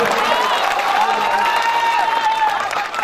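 An audience at a mushaira poetry gathering claps and cheers in a steady, dense burst of applause, moderately loud, with voices calling out amid the clapping.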